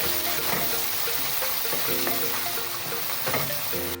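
Sliced onions with fennel seeds sizzle and fry in a pan while being stirred, a steady close crackling hiss with occasional scraping knocks, no talking.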